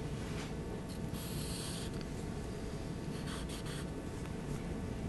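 A pencil sketches a skull on paper in close, soft scratchy strokes that come in short bursts over a steady noisy background, with no voices.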